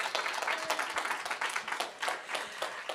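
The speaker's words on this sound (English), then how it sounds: "please give a round of applause" Audience applause at an evening community session on housing security, a steady patter of many hands clapping close by, filling the whole stretch without a break.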